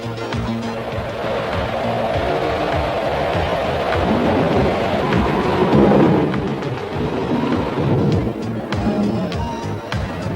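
A thunderstorm rolls over the sea near harbour breakwaters: a heavy, continuous rumble of thunder with rain-like hiss, swelling louder around the middle and staying dense throughout.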